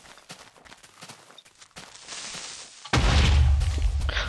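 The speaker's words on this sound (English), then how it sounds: "I like the new creeper sound effect." A Minecraft creeper explosion sound effect from the video game bursts in loudly at about three seconds, a sustained rumbling blast that follows quieter scattered gameplay noises, footsteps and clicks, and holds to the end.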